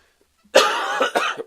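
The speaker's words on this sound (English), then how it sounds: "I keep coughing" A single harsh cough bursts out close up, followed by a second shorter cough and a brief throaty tail.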